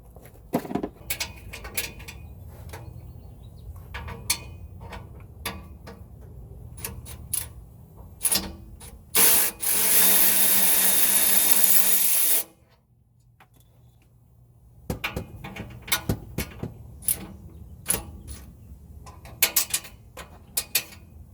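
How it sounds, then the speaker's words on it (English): A wrench working the nut on an exhaust down pipe during a down pipe installation, producing close metallic ratchet-like clicks in irregular bursts, plus a loud sustained hiss in the middle, with no talking. "Seems I'm going to have to use a wrench on this one because I can't get the socket around that nut"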